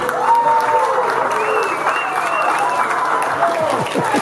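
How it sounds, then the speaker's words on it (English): Audience at a town anniversary opening event and potluck dinner applauding a committee: full, continuous crowd clapping with scattered voices and whoops underneath. "Please give them an applause."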